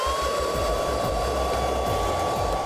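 A hair dryer blows on a girl's wet hair, a loud, steady whirring roar that holds unchanged from start to finish.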